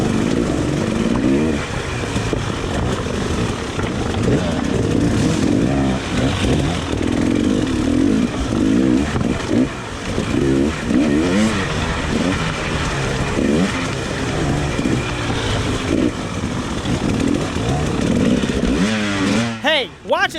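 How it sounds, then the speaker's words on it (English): A dirt bike engine revs and drones continuously nearby at a hard enduro race, rising and falling in pitch, with a sharp rev change at the very end. "there's a bike revving behind me"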